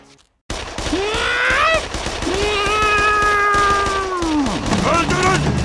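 A cat in a video game meows loudly several times in drawn-out, wavering cries, close and clear, over a steady background of game noise.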